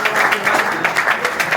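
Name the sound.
audience clapping in honour of the goalkeeper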